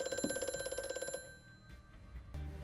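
A telephone rings in a Doctor Who episode, giving a rapid trilling burst of bell rings for about a second before cutting off, followed by quieter room noise and a low thud.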